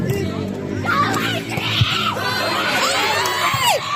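A crowd at a local Ward 4 versus Ward 3 game shouts and cheers loudly, with children's high-pitched yells and screams rising in waves over busy chatter.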